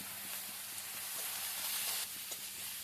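Garlic paste fries in oil along with onion paste in a pan for a potol masala curry, producing a steady, faint hissing sizzle throughout with no voices.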